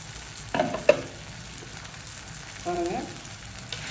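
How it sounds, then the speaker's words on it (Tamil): Onions and tomatoes for egg curry fry in a pan with a low, steady sizzle, broken by a couple of brief stirring scrapes near the start and again midway. "வெங்காயமும் தக்காளியும் நல்லா வந்து மசிஞ்சு வரட்டும்"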